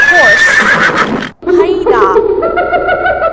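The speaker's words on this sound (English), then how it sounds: "horse" Horse neighing in a loud, close whinny that breaks off briefly, then returns as a long, wavering call with a high trembling tone, heard on its own.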